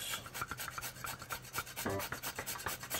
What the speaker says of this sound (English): one of my other favorite ingredients to grind fresh, and that is nutmeg